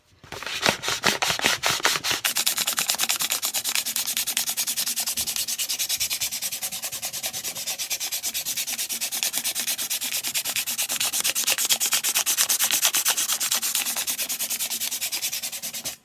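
Sandpaper rubbing along a Craftsman axe handle during restoration, a steady scratchy hiss of continuous strokes, close and alone, with a few sharper scrapes at the start.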